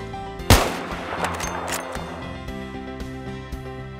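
A long-range sniper headshot in a video game fires as a single sharp, loud crack, followed by a reverberant tail and a low steady in-game hum.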